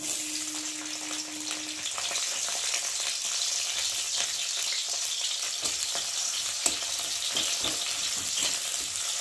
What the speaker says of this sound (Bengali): দিয়ে একটু পেঁয়াজটা ভালো করে ভেজে নেব।